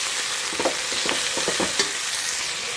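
Boiled gokarakaya stirred and fried in oil in a pan, with a steady loud sizzle broken by several scraping stirs close by, and no voices.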